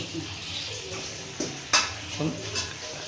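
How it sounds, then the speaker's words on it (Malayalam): Chicken sautéing with fried mustard seeds in a pan for a Christmas chicken curry, giving a steady soft sizzle with scattered stirring scrapes and a few sharp utensil clinks against the pan. "കടു വറുത്തിട്ട് വഴറ്റുകയാണ് ചിക്കൻ കേട്ടോ"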